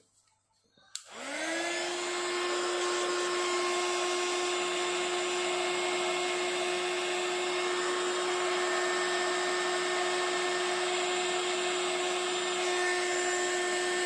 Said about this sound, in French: Et je vais venir chauffer ça avec mon heat gun.